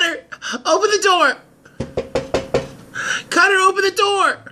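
Someone pounds on a door in a dramatic TV soap scene: about five heavy, evenly spaced blows land close by, between bursts of loud shouted speech.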